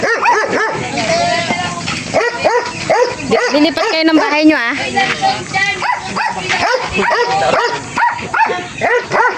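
Dogs yip, whimper and bark in short repeated bursts close by, mixed with a person talking over them.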